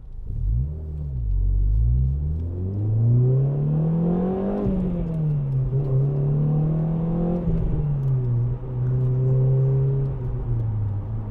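A 2010 Renault Clio Renaultsport 2.0 hot hatch engine rumbles loudly and revs up on a bendy road, pitch climbing and falling as it accelerates through the gears, close and continuous.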